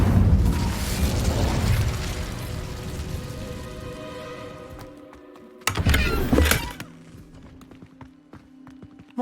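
An Incendio fire spell goes off in Hogwarts Legacy, a burst of crackling, whooshing flame that fades, followed by a second short blast and scattered faint clicks.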